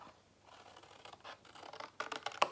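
Scissors cut through a paper square for a mini accordion album, with a series of faint, close snips that grow sharper and more frequent toward the end, and no talking.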